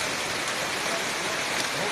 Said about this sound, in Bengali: এত হারে ঝড় বৃষ্টির সঙ্গে ঝড়ো হাওয়া